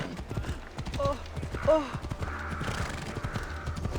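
Horse hooves clip-clop in a steady trotting rhythm while riding in Assassin's Creed Odyssey, moderately loud under game music and ambient effects, with a brief whinny-like tonal sound partway through.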